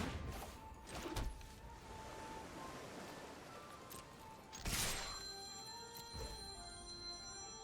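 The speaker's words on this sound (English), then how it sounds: "Whoops, my phone was ringing." A phone rings in the background during a Magic: The Gathering Arena game, giving a few faint, repeated electronic tones over steady hiss with scattered soft thumps and no talking.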